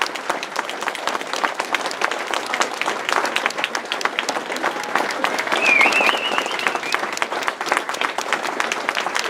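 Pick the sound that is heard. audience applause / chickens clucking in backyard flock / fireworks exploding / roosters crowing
audience applause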